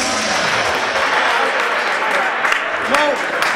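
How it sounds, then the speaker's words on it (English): A crowd applauding a grand prize winner at a ball, sustained dense clapping throughout, with voices and a brief shout mixed in near the end. "Please give him a round of applause."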